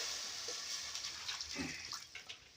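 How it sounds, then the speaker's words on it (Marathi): Water splashes and hisses as it is poured into a hot kadhai of ridge gourd vegetable, a continuous rushing sound close by. "आता शिजण्यासाठी पाणी टाकलंय हे बघा कढाईमध्ये"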